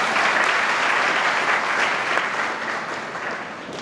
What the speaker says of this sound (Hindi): जोरदार तालियों के साथ उनका स्वागत करें आप लोग